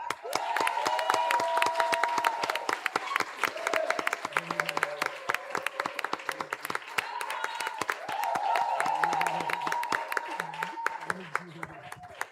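Audience applause at a community awards ceremony, sustained dense clapping from a crowd lasting over twelve seconds, with a few cheers mixed in.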